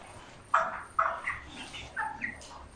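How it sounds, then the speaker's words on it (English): Five-week-old broiler chickens squawk in a run of five or six short, sharp calls spaced about half a second apart, fairly close, over a low background hum. "Very healthy birds, 5 weeks old."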